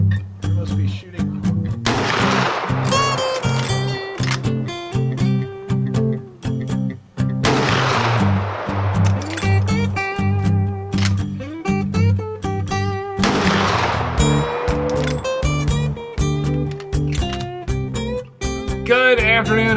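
A Marlin 1895G Guide Gun lever-action rifle fires loud, booming shots outdoors, three heavy blasts spaced several seconds apart, with mechanical clatter and rattling between them.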